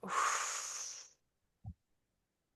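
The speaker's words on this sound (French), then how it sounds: "Soufflez et inspirez." One long, audible exhale through the mouth during a stretching exercise, close and breathy, lasting about a second, followed by quiet and a couple of soft faint sounds.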